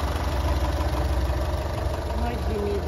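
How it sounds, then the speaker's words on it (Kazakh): A Toyota Avensis engine idles at a Shymkent car market, a steady low rumble with a faint rhythmic mechanical pulse, close and continuous, with a few faint tonal sounds near the end. "Мотор осындай."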